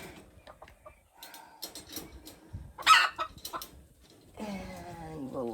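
Small hens in a backyard coop on a farm give soft, scattered clucks and a few sharper squawks at close range, with a louder burst midway and a steadier murmuring cackle toward the end.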